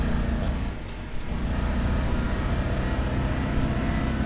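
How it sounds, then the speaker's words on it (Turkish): Scania truck engine in Euro Truck Simulator 2, a steady low rumbling drone that dips briefly and then holds an even, moderately loud hum, with no one speaking. "Scania'nın sesi de bambaşka arkadaşlar."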